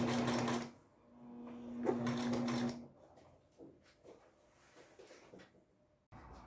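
A sewing machine stitches binding onto a baby quilt in two loud runs of rapid, steady whirring, each stopping abruptly, followed by quieter handling clicks and faint rustling.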